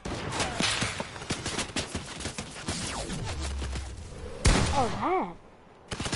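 Submachine gun fire in a multiplayer video game crackles in fast bursts and sputtering volleys throughout, with a louder blast near the end, while players talk over it briefly.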